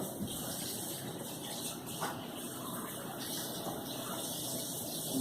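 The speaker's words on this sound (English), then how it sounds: "Draining off this excess water off the cabbage." Excess water drains off cooked cabbage in a home kitchen, a steady close gushing and splashing stream that holds level throughout, with no speech over it.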